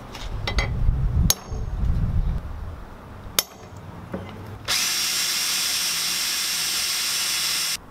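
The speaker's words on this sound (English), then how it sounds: "Once you're done drilling the holes" A power drill bores holes in a turbo manifold for a T25-T28 hybrid turbo, running loud and steady for about three seconds after some earlier knocks and handling noise.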